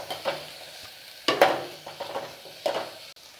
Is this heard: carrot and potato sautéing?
yes